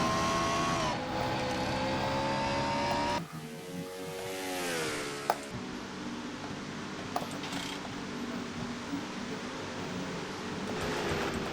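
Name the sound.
race car engine onboard, NASCAR racing video game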